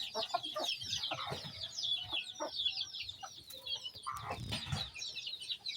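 Farmyard chicks peeping in quick high chirps along with clucking from chickens, close but quiet, with a brief low thump partway through.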